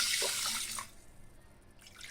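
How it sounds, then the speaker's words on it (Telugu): Water pours into a pressure cooker holding moong dal, a short splashing gush that tapers off after about a second, then quiet. "ఒక కప్పు పెసలకి 2 కప్పులు నీళ్లు పోసుకోవాలి"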